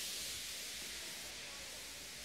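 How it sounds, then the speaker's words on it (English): A steam locomotive feebly lets off steam, giving a faint, steady hiss that fills the whole moment on its own without any voices. "He just let off steam feebly."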